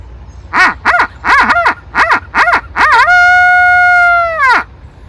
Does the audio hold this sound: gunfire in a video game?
no